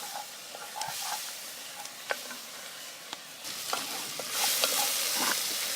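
Garlic sizzles in a pot over a campfire for bear meat chili, a broad steady hiss that swells louder near the end, dotted with small clicks of stirring and popping.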